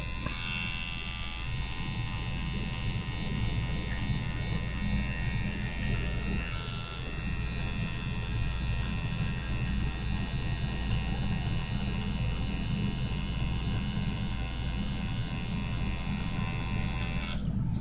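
A homemade tattoo machine runs its needle nonstop, a loud steady electric buzz with a high whine held for the whole stretch and cutting off at the end.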